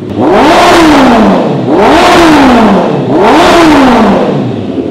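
Kawasaki ZX14R 1441cc inline-four motorcycle engine revved hard three times toward its 11,000 RPM redline, each loud rising wail falling back between blips, close and alone.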